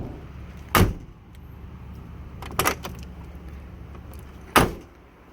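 Doors on a lifted Mercedes G-Wagon shut three times with heavy, solid, vault-like thunks, close by, separated by quiet pauses and no talking.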